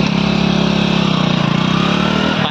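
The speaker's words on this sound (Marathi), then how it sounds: "आता आपली पण गाडी स्टार्ट करूया" A motorcycle engine runs close by with a steady, loud, throbbing idle that holds even throughout, shortly before riders set off on a trip to Ganpatipule.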